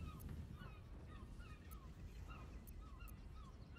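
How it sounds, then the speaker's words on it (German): Pigeons in the video game Baldur's Gate 3 call repeatedly in short, even bursts over a soft ambient game background, with no talking. "hier sind die Tauben"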